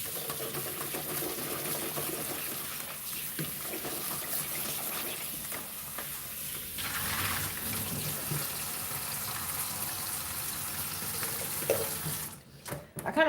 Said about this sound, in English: So let me just rinse these real quick.